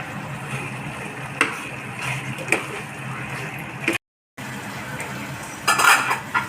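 A spoon stirs goat intestine curry in a pot, scraping and clinking with occasional sizzling over a steady bubbling cook, close and fairly loud.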